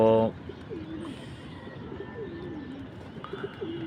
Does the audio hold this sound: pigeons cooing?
yes